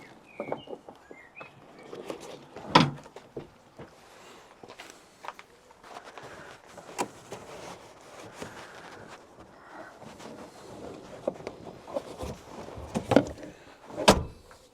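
A Dacia Spring rear seat being folded back up and latching, with scattered fabric rustles and plastic knocks leading to a couple of sharp clunks near the end, close by inside the car.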